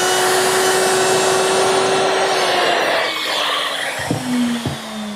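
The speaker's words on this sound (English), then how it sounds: "I'm routing a dado slightly deeper than the ones I did earlier" A power router cuts a slightly deeper dado across wooden cleats for a kitchen island, giving a loud, steady high whine that shifts in pitch partway through as the bit bites into the wood.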